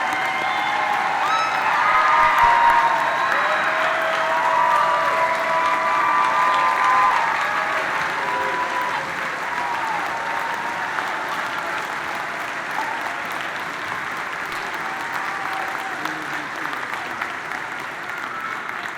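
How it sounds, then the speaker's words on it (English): A standing ovation at the Edgewood High School 2025 commencement: sustained, dense applause from a large audience, with scattered cheers, that stays loud for about nineteen seconds before easing slightly near the end. "Let's give them a standing round of applause."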